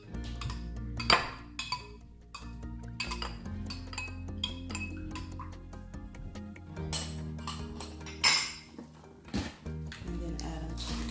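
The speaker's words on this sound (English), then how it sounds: "Mix the wet ingredients." Dishes and utensils clink steadily while wet ingredients, lemon juice among them, are mixed for gluten-free oatmeal pancakes, with a few sharper clatters standing out over a continuous low background hum.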